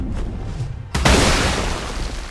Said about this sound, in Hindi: अबे इसने भाई इन लोग का घर उड़ा डाला